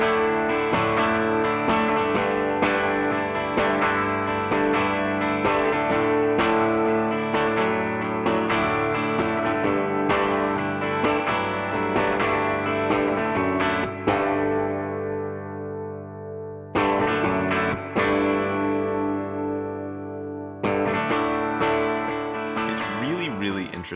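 Sustained distorted electric guitar chords through a tube amp ringing out with a saturated, crunchy, classic-rock tone, fading at moments before being struck again.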